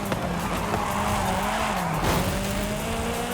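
Car tires squealing and skidding during a race in Forza Horizon 5, a continuous close screech with sliding pitch over a revving engine.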